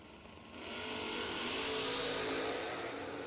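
Drag racing cars rev and accelerate hard, a loud sustained engine roar that swells after a brief quieter start and holds steady.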